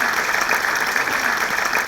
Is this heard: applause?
yes